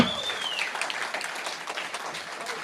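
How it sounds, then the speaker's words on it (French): An audience at a Christmas celebration applauds in a lively, slightly uneven round of clapping that begins with a brief high whistle-like tone, with some voices mixed in. "je crois quand même que ça vaut un très très bel applaudissement"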